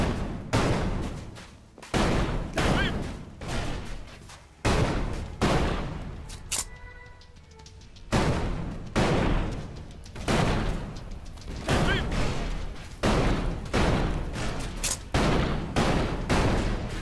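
Gunfire from the video game Elex crackles in rapid, dense volleys, loud and close, with short gaps between bursts and no talking.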